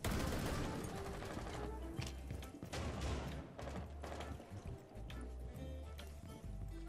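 Rapid bursts of gunfire fill a match of the tactical shooter Rainbow Six Siege, loud and dense with repeated volleys and impacts throughout.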